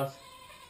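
A goat on an off-grid homestead gives a single short bleat right at the start, close and fairly loud, then fades into quiet outdoor background.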